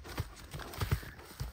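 Horse hooves clip-clop in a loose, uneven rhythm of soft dull thuds, fairly faint against a steady background hiss.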